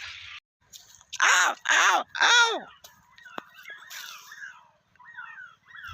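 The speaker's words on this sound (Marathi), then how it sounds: "बरेच कावळे आलेत बरं का" Several crows cawing loudly and close, a run of three harsh caws followed by scattered fainter calls from the flock, with quieter outdoor background between.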